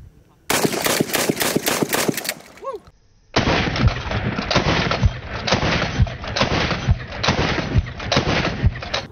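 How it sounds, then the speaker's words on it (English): A Cimarron 1897 pump shotgun is slam-fired in quick succession: a fast string of loud, close blasts, a brief pause, then a second longer run of booming shots. "every time you slam this forward, it's gonna fire."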